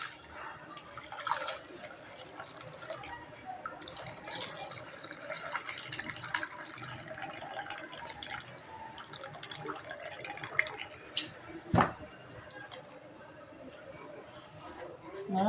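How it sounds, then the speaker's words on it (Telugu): Water is poured and dripped over cut bitter gourd pieces in a kitchen, a steady splashing trickle with scattered drips and a couple of louder knocks, and faint chatter in the background. "మనం దీంట్లో వేరే మళ్ళీ వాటర్ పోసుకున్నాం."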